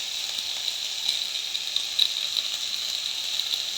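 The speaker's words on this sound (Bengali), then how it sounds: "আমি এখন সবজিগুলোকে হালকা করে একটু ভেজে নেব" Vegetables for posto with bottle gourd greens frying lightly in a pan, a soft, even sizzling hiss that holds steady throughout with a few faint crackles, close by and without talk.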